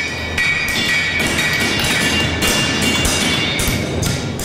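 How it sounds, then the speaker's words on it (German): Steady rhythmic metal hammer blows from farriers forging horseshoes in a sand-floored workshop ring out over a dense, noisy background, falling in a regular beat without pause. "Von weitem ist rhythmischer Hammerschlag zu hören, wenn in der Werkstatt im Sand die Hufschmiede bei der Arbeit sind."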